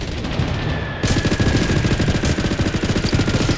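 Rapid automatic gunfire in the video game Blood Strike, a loud sustained burst of closely spaced shots that starts abruptly and continues steadily to the end.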